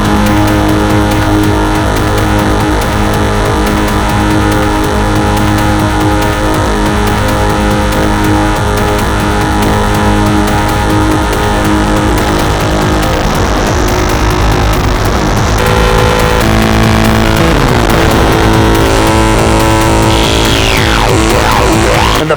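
A Neutral Labs Elmyra 2 synthesizer plays a dense, sustained drone, its filter sweeping through the tone, with brighter swooping shifts near the end; loud and steady throughout, with no talking.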